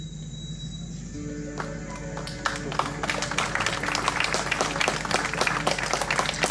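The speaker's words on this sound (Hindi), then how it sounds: "तालियां बजती रहें" Applause at a church prayer gathering in Hazaribagh, starting faint and building into a dense, steady patter of many hands clapping, with a low hum beneath.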